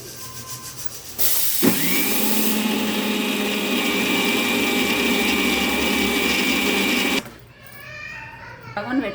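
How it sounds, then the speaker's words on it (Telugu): A kitchen mixer grinder whirs at high speed grinding egg masala with tomato and onion, a steady loud motor whine lasting several seconds before cutting off, with brief talk before and after. "ఒకసారి మిక్సీ పట్టుకోవాలి"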